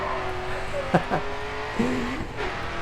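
A Ford Mustang drifts in the racing game Grid 2, its engine droning steadily under brief tire squeals and tonal slides, while a commentator's voice sits faintly in the mix.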